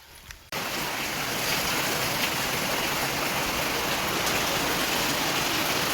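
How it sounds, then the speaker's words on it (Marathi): Steady, heavy rainfall with a dense broadband hiss, starting abruptly after a brief quiet moment and continuing loud and unbroken. "पाऊस येतोय"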